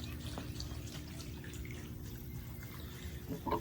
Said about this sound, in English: Got a nice, beautiful fountain here where you can hear the water.